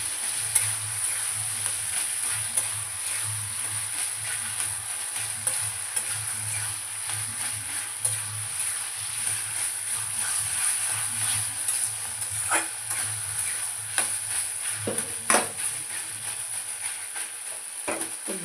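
Mashed pumpkin frying in oil in a pan gives a continuous close sizzle, broken by scraping stirs and occasional clinks of the utensil as it is turned.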